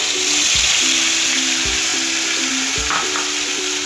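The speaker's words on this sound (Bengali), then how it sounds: "যে তেলে আমরা পটল ভেজেছি এবার ওই তেলে আমরা আদা রসুন লঙ্কা বাটা দিয়ে দেব।" Ginger, garlic and chilli paste sizzles in oil already used for frying pointed gourd, a steady close-up hiss with a low hum underneath and a few soft thuds.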